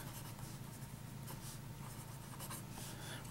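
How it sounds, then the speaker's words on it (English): A Waterman Exception fountain pen with a medium nib writes on paper, giving a faint, steady, soft scratch that runs evenly throughout without pauses. "that medium nib is extremely smooth with a Waterman Intense Black"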